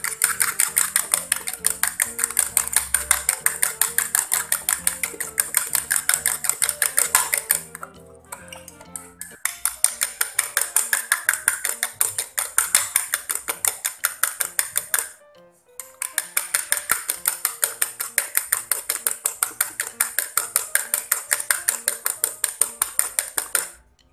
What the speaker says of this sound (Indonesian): Kita aduk sampai dia gulanya larut.